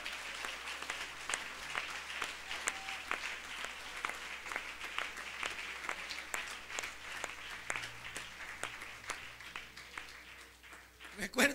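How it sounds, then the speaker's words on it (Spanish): Church congregation clapping in a rhythmic, steady beat, moderately loud and even, with faint voices in the background and a louder burst of claps near the end. "Aplauda al Señor, apláudale."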